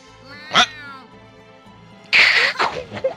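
A cat meows in Star Ocean: First Departure, one short mew near the start and then a louder, longer burst of meowing toward the end over a quiet tonal backdrop.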